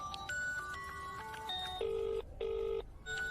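A telephone rings loudly in a series of electronic tonal bursts with short gaps, close by and alone, with no talk over it.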